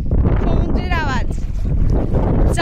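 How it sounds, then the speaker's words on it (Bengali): Sea waves on the beach at Bakkhali roll in as a loud, continuous roar, heavily buffeted by wind rumbling on the microphone, with faint whistling tones drifting over the surf. "সমুদ্রের আওয়াজ"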